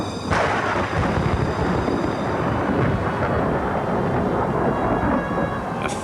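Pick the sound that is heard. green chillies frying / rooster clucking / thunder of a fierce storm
thunder of a fierce storm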